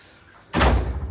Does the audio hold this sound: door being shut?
yes